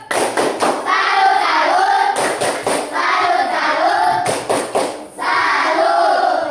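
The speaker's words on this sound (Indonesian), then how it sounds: "Kasih tepuk salut buat kelompok 4." A school class performs a rhythmic clap-and-chant salute for a student group, three cycles of quick sharp clap bursts, each followed by loud unison chanting voices.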